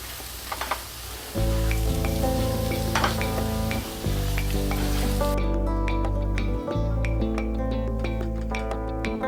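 Boiled, mashed potatoes cooking in a spicy bhaji for Mumbai-style vada pav: a continuous close sizzle with scattered spoon clinks over a steady tonal drone.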